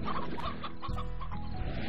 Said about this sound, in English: You unruly chickens!